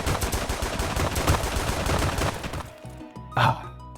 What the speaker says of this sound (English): I'm gonna go at it quite a bit with my gun here